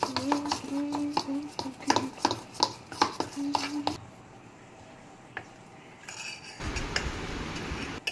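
A spoon clinks and scrapes against a bowl while gram flour paste is mixed with mustard oil for frying pomfret, giving quick rhythmic metallic taps, then a quiet pause and a softer rustling, wet stir near the end.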